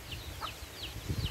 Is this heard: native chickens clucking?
yes